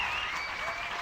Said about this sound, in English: Can we please get another round of applause for these young leaders?